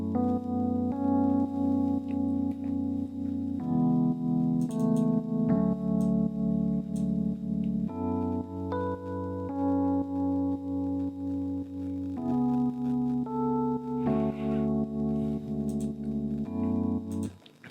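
Warm, sustained Keyscape keyboard chords from a custom warm preset in an amapiano track, changing every couple of seconds in a steady progression, with a touch of chorus and reverb, played alone and fairly loud.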